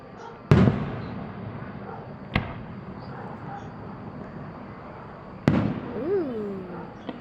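Fireworks bursting at a distance: three sharp booming bangs spaced a couple of seconds apart, the last followed by a rising whistle, with people talking quietly between the blasts.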